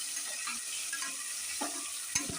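Tomatoes sautéing with salt in a pan for dal rice, a soft steady sizzle with a few scraping stirs and a sharp clink of the spoon near the end, no voices.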